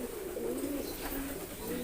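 Low, steady cooing from a caged Kolong racing pigeon, a soft continuous murmur through the whole stretch with no talk over it.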